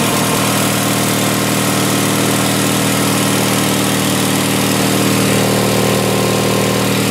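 A Sears Suburban SS16 garden tractor's 16 HP Onan twin-cylinder engine runs steadily after a cold winter start, a loud, constant close-up drone with no talking.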